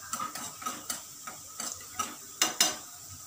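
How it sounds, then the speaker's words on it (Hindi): Butter melts in a pan for paneer masala, with soft sizzling under a series of light clicking, scraping stirs spaced irregularly, quiet and close. "इस बटर को थोड़ा सा पिघलने दो। हमारा बटर मेल्ट हो रहा है"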